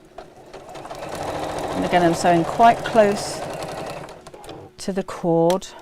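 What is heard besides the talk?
sewing machine stitching a chair cushion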